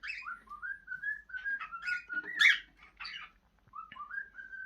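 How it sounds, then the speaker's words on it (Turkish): A pet bird whistles a string of clear, rising and falling calls to its mate, loud and close, with short pauses and one harsher squawk near the middle, no talking. "Bak dişi çağıracak şimdi."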